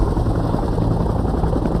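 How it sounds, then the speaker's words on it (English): A Bell UH-1 Huey helicopter flies over a Vietnam War landing zone with a loud, steady rotor and engine drone that fills the whole stretch. No voices are heard. "For the Americans, everything moves by helicopter"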